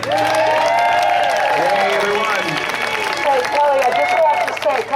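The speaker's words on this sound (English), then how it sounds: "Let's give Kelly a big round of applause." A crowd at a protest rally applauds and cheers a speaker being introduced, a broad, loud wash of clapping and crowd noise under an amplified voice talking over it.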